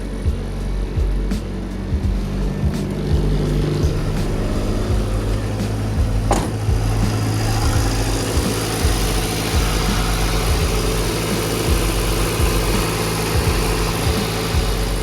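Acura Integra engine idling steadily after starting, a low continuous hum close by with a brief sharp click partway through, no talking.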